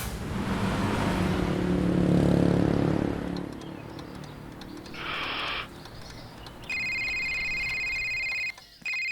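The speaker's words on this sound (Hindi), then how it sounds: "तपन कॉल कर रहा है।" A low, rumbling engine-like noise fades out, then a steady electronic phone tone sounds in bursts, ending with a short repeated ring near the end.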